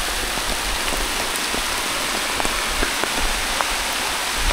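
Heavy rain pours steadily over farm fields, a dense continuous hiss with scattered louder drops pattering nearby, unbroken across the whole stretch with no talking.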